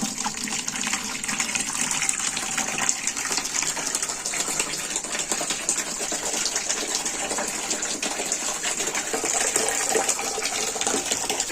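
Water gushes steadily into containers at a village water source, a continuous hissing pour that stays even throughout, with no speech.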